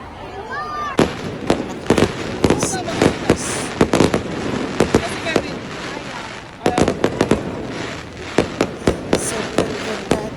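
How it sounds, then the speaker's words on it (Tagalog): Fireworks burst again and again over a mall in sharp, loud cracks and booms, with a short lull midway, over a steady murmur of a large crowd. "Ang saya, ang ganda ng fireworks"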